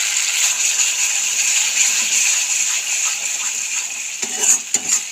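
Spice masala for a jackfruit curry frying and being stirred in a pan, a steady close sizzle with a few scraping and clinking strokes of the spoon near the end.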